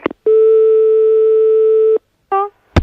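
A telephone line tone on a phone that is not working: one long steady tone of almost two seconds, a short repeat of the same tone after a gap, then a brief sharp click at the end.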